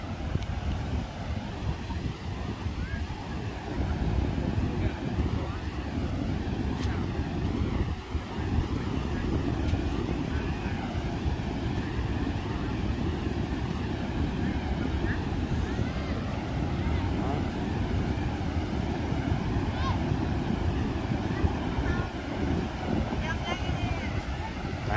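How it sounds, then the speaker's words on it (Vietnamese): Big sea waves roll in at Trà Cổ beach under a continuous rumbling wash of surf, buffeted by heavy wind noise against the microphone, with no clear breaks between breakers. "Hôm nay sóng to lắm các bạn."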